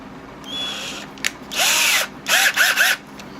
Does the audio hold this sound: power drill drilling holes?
yes